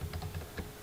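A few quick keystrokes on a computer keyboard, light close clicks in a short uneven burst under a steady background hum, no talking.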